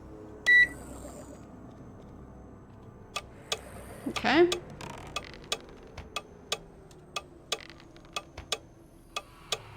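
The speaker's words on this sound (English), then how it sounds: "That sounds like a timer." A ticking timer in the 1999 video game Ultima 9 clicks steadily at about two ticks per second, sharp and faint, with a brief beep early on and a short burst of noise and one quiet spoken word in between.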